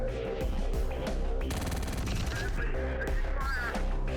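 Gunfire and mortar shots in the video game Terminator: Dark Fate Defiance, with dense bursts of automatic fire and sharp cracks layered over rumbling explosions and a continuous battle din.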